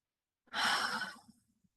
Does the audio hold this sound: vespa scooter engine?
no